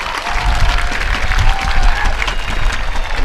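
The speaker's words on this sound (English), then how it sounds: "Please give them a round of applause for being here tonight." Crowd applause fills the stands at a high school football game between Boone and Winter Park, a steady, fairly loud wash of clapping that holds for several seconds, with a faint tone running through it.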